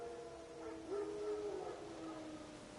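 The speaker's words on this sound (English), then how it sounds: "No. Wild dogs." Wild dogs in The Witcher 3 let out a distant, faint howl that rises briefly and fades, heard alone over quiet outdoor ambience.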